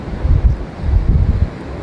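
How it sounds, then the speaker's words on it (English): Strong wind on a seaside pier at Skegness buffets the microphone in loud, low gusts that surge and fade irregularly, with no voices. "It is quiet here because it's very windy."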